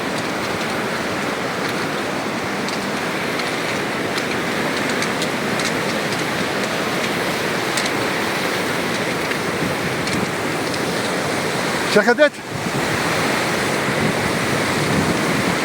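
Meltwater flows from the Skhara glacier in Georgia in a steady, rushing wash close by, with a brief handling bump near the end and a single spoken word over it.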